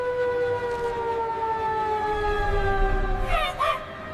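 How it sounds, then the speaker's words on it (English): Sirens in a PAW Patrol 3D animated cartoon wail in a long, slowly falling tone, steady and fairly loud, with a brief higher warble near the end and no talk over it. "The sirens wail,"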